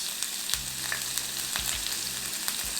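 Garlic and green chili fry in a pan for homemade vada pav, a continuous close sizzle and crackle with light scraping and stirring knocks that come at irregular intervals.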